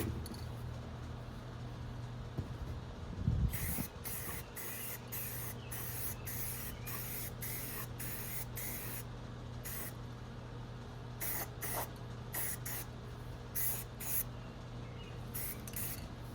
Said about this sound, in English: Yeah, so let's get this sprayed. First coat will just be on the bottom side.